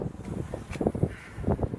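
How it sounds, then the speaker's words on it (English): Gusty bomb-cyclone wind buffeting the microphone in low rumbling bursts, rising and falling unevenly over a couple of seconds. "Demonstrate how windy it is here exactly today."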